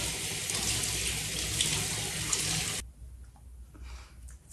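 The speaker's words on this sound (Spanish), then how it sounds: "Ahora me voy a enjuagarlo" Cold water runs steadily from a bathroom tap into a sink while a face is rinsed, a loud continuous splashing rush that stops abruptly partway through, leaving quiet room tone with faint drips.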